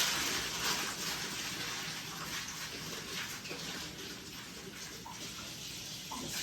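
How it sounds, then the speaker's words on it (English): Water running from a sink faucet onto crumpled parchment paper, giving a steady broad splashing rush with faint crinkly irregularities, moderately quiet and without talk. "You're going to take it over to your sink, crumble it up, and get it wet."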